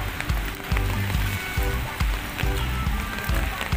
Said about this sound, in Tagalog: Yan, di ba? Umuulan.